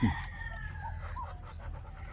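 Ducks call and squawk softly from their pen against a low background rumble, with a brief loud thump at the start.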